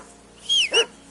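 Two quick barks from a dog in the medieval video game Kingdom Come: Deliverance II, close and clear over a quiet background, the second bark ending in a lower, whimpering tone.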